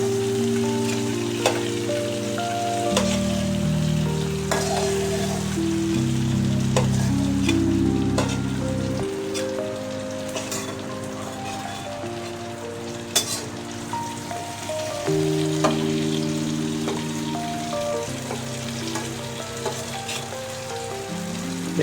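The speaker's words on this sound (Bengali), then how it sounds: "ভেজে নেব বেগুনগুলোকে" Eggplant pieces sizzle and crackle steadily in hot oil in a pan, a continuous close frying hiss with small pops throughout, with no voices.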